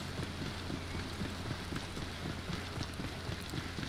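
Rain falling steadily in the STAY OUT game world, a dense constant patter with soft gusts of wind behind it, close and even with no voices.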